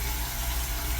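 A sink faucet runs steadily with lukewarm water, a constant broadband hiss of flowing water close by with no pauses and no talk.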